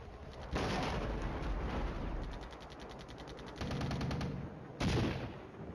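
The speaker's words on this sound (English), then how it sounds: "they're catching the wrath of the Soviet artillery" Soviet artillery and gunfire in the wargame Flashpoint Campaigns: Red Storm, with repeated crackling bursts and rapid rattling volleys across the span and a sharper burst near the end, moderately loud with no talk.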